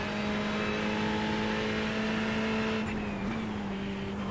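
A Ferrari race car engine in the iRacing sim drones at a steady high pitch around a corner at Snetterton. The note dips briefly as the throttle is feathered, then holds, loud and close with no talk.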